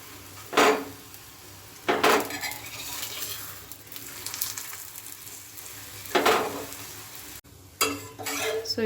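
An onion paratha fries in oil in a pan, a steady sizzle broken by several sharp clatters of a utensil against the pan.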